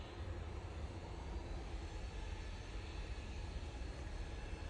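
A Finnair jet airliner passing over Wythenshawe near Manchester Airport makes a faint, distant, continuous engine rumble, low and steady with no voices.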